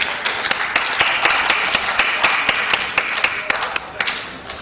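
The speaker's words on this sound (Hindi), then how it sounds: "आपन समस्त माने टिके जोरदार ताली बजांतु" At a literary festival on Odia short stories, an audience gives a loud round of applause for speakers coming to the stage, with some sharp individual claps standing out from the steady crowd clapping.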